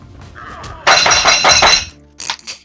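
A plate knocked and smashed over a Discord call: a soft tap, then a loud crash of breaking crockery with rattling shards, followed by a few smaller clinks.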